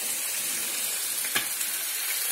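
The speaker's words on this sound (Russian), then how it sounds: "Пускай поджарится. До корочки." A meat cutlet fries in a hot pan, giving a loud, steady sizzle throughout with one brief sharp crackle partway through.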